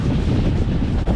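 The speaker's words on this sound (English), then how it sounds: "These waves are relentless." Rough ocean waves and strong wind buffet a sailboat on open water en route to Guadeloupe, a dense, continuous roar of wind rush and sloshing water, loud and steady throughout with no voices.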